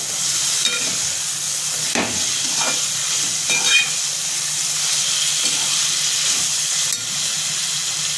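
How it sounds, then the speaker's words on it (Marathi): Snake gourd pieces stir-fried in a pan, with a steady close sizzle and hiss and occasional scraping stirs throughout. "ह्याच्यामध्ये पडवळ जे आहे ते टाकून आपल्याला परतून घ्यायचे"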